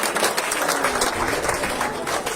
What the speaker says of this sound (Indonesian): Sekali lagi tepuk tangan karena kita sama-sama mendukung.